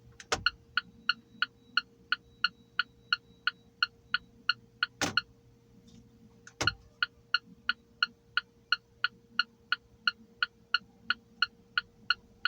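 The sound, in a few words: car turn signal ticking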